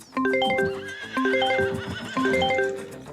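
Horses and foals neighing on a farm in Farming Simulator 25, three loud, close whinnies in quick succession, each a shrill descending call with a little hoof clatter underneath.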